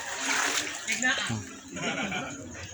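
Pressurised water gushes and splashes steadily from a pipe, a continuous broad hiss-like spray with slight surges, while people talk nearby over it.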